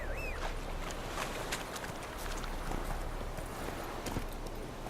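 A horse's hooves in the video game The Witcher 3 clip-clop rapidly in a galloping rhythm over a constant noisy background, steady and moderately loud throughout, with no speech.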